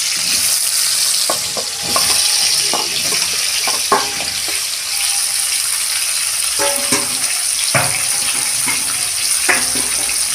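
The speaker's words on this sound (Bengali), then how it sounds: "চাল কুমড়োটা একটু ভেজে নেব।" Ash gourd pieces frying in hot oil in a wok, a constant hiss under repeated scraping and stirring clatters, fairly loud and close throughout.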